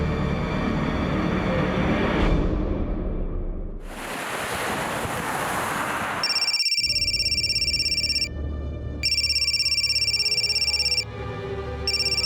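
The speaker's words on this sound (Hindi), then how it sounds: "आपका फोन बहुत बज रहा है।" Wind and rushing surf give way to an electronic phone ringtone sounding in two long bursts separated by a short pause.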